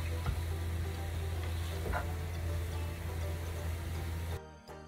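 Pumpkin and desiccated coconut are stirred together in a hot pan, a soft, even sizzle with faint ticks of the spoon that stops abruptly at the end.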